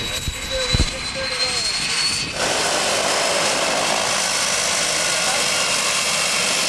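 Steady loud roar of an airplane engine before a skydive, rising to a fuller, constant drone after a couple of seconds, with a brief knock early on.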